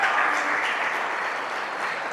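A congregation applauds during a live church service, a full, steady burst of clapping that starts strong and tapers slightly over a couple of seconds.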